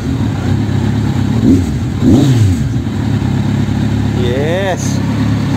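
A motorcycle engine being warmed up rumbles steadily up close, with a couple of brief revs rising over the low idle and a voice speaking near the end.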